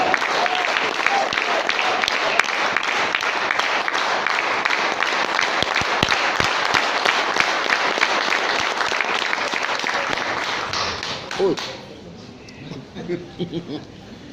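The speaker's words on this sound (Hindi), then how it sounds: "तालियां भरती रहनी चाहिए सर।" Sustained audience applause fills a training session hall, dense and steady clapping for about eleven seconds before fading, with a voice speaking briefly as it dies away.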